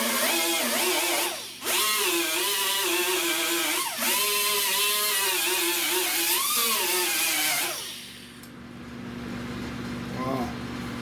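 A power sander works a body panel on a 1970 Wildcat convertible, its loud, close motor whining with wavering, bending pitch and brief dips, then cutting out near the end to leave a quieter steady hum.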